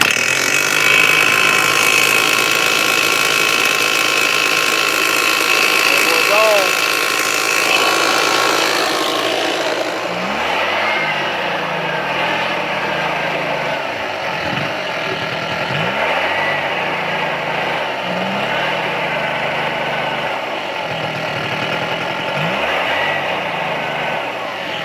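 A Stihl BR420C backpack blower, with a newly replaced recoil starter and carburetor and short of fuel, roars loudly at first. It then drops to a rougher running note with repeated surging revs, close by.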